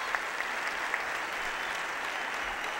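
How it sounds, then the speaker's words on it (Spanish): Audience applause at an ideas conference in Puebla, a steady wash of many hands clapping heard from a distance, moderately faint and even throughout, with no speech over it. "Un aplauso para él, aunque no esté."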